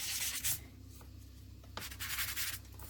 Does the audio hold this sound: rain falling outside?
no